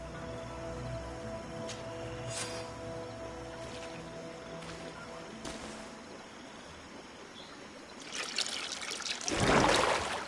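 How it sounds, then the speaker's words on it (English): In the GreedFall video game, a potion is poured onto a stone altar, a soft trickling splash that swells near the end over a quiet ambient game soundscape with faint chimes. "That must be where we need to pour the potion."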